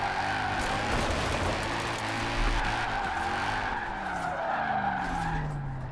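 In Forza Horizon 4, a BMW E46 built for drifting, driven with a steering wheel and custom handbrake, slides continuously with loud sustained tire squeal over a revving engine. The sound is steady and close for the whole stretch.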